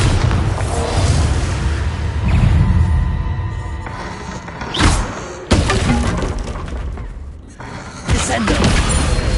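Bombarda blasting spell cast in Hogwarts Legacy, a series of loud booming, shattering bursts with crashing debris, several sharp impacts spaced through a dense, noisy magical battle.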